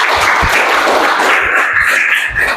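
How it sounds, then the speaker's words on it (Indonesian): A classroom of students claps their hands together in a lively, close burst that holds steady for a couple of seconds before tapering slightly at the end. "Oke, terima kasih, tepuk tangan"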